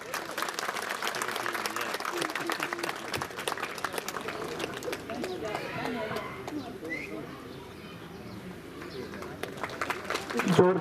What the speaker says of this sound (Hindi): जोरदार तालियां बजाते रहिए।